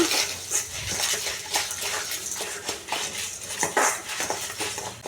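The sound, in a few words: roasting chitranna seasoning in a pan while stirring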